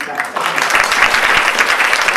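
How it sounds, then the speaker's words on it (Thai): An audience at a traditional Thai musical theatre memorial performance breaks into applause, clapping starting after a brief pause and continuing as a dense, loud wash, with some voices mixed in. "จะขอเสียงปรบมือกำลังใจหนุนใจ"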